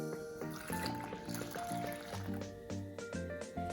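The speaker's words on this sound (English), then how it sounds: "Pour your yeast mixture into the center of the flour." Yeast mixture poured into the center of flour in a bowl for focaccia dough, a soft liquid trickle and fill heard under background music.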